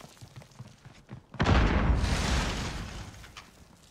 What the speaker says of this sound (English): Somebody's got a rocket launcher?